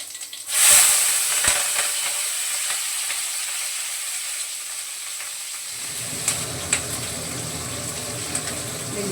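Hot oil in a pan hisses loudly as a tempering of mustard seeds, cumin, green chillies and coriander leaves goes in. The sharp burst settles into a steady close sizzle with faint crackles and occasional stirring.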